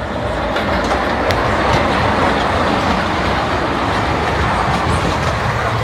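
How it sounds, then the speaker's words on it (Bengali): An amusement park ride train in Narsingdi runs past with a steady, loud rumble and rhythmic clickety-clack of wheels on track, filling the whole stretch without any talk. "এই যে ট্রেন রাইড চালু হয়েছে। এটা হচ্ছে আপনার ট্রেন রাইড"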